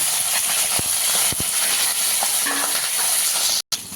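Okra frying in hot oil in a pan, a loud, steady close hiss with occasional stirring knocks and a brief cut near the end.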